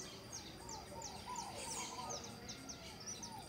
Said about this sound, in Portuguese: Olha o canto dos pássaros, olha